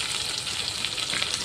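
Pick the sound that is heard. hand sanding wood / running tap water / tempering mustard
tempering mustard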